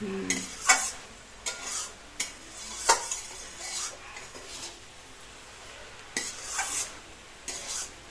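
Cabbage fries in a pan for a festive Bengali cabbage ghonto, stirred with a spatula in repeated scraping strokes against the metal over a soft sizzle, with occasional light clinks.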